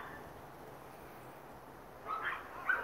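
A loose dog without a collar, roaming the street, barks at a neighbor's dog: two short, fairly distant barks break into a quiet outdoor hush near the end.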